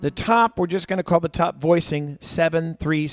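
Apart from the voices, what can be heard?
No everyday noises stand out.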